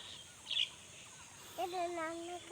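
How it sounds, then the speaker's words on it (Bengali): Early morning on a village dirt path beside a rice field being harvested: a brief high chirp, then a longer, steady tonal bird call held for close to a second, moderately distant over quiet background. "পাখির ডাক, পাখির আওয়াজ সত্যি মনোমুগ্ধকর।"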